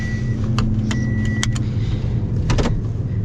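Key jingling and sliding into the ignition of an older Toyota Tundra SR5, with several bright metallic clinks over a steady low cabin hum.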